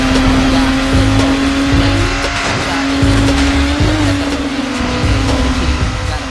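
Performance cars racing in the video game Need for Speed Underground, with a loud, steady engine drone, tire squeals and skids, and rhythmic low thumps running throughout.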